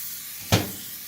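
A single short, sharp hiss from a refillable oil sprayer bottle misting cooking oil like an aerosol, near and loud against a quiet background.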